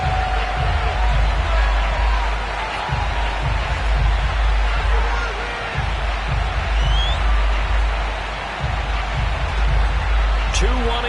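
A sellout stadium crowd roars steadily in a Madden football video game as the Atlanta Falcons face the Buffalo Bills, with a commentator's voice talking over the constant cheering.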